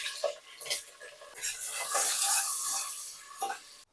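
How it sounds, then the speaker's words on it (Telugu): Onion and green chillies with biryani spices stirring and sizzling in a pan, with scraping utensil clicks and a steady frying hiss that swells in the middle, close and fairly loud, no talking. "ఇప్పుడు ఆనియన్, పచ్చిమిర్చి వేసేస్తున్నాను"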